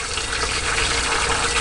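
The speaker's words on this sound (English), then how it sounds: "I filled the water up until it was halfway up the jug of ice" Water gushes steadily into a jug packed with ice, a continuous close-up splashing fill with no talking.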